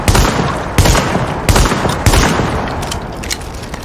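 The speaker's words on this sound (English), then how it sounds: "fires in the same way as a shotgun" A seven-round weapon in The Division fires with shotgun-like blasts, four loud, punchy shots spaced roughly evenly under a second apart, each with a rumbling tail and no talk over them.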